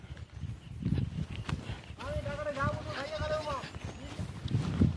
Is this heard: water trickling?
no